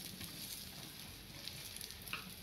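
Egg frying across a full tawa griddle, a quiet continuous sizzle with faint crackles and pops, steady and close, with no talking.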